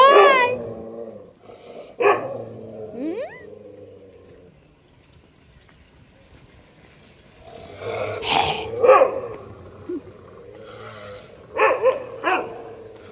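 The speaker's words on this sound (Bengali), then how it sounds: "কুকুরগুলো চলে এসেছে, তার জন্য চিৎকার করছে উপর থেকে।" Several dogs barking and growling from above, in bursts near the start and again later, with quieter gaps in between and no talk.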